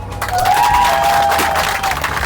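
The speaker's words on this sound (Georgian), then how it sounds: "ამას ტაში უნდა" A crowd at a shawarma eatery serving grill-roasted meat bursts into steady applause and cheering, a dense, loud clatter of clapping that holds for about two seconds, with a thin whistle rising through the middle.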